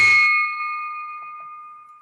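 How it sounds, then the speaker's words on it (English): A bell rung in memory of fallen Rotarians at a Rotary Club meeting gives one clear metallic strike, its bright tone ringing on and slowly fading for about two seconds. "I'd like to be the first to ring the bell for our fallen Rotarians."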